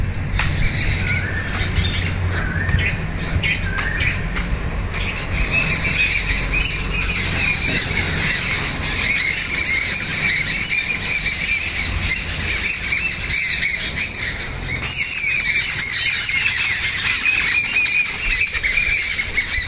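Crows and many other birds squawk and call continuously at a house, a dense loud chorus of overlapping harsh cries with flutters, steady throughout.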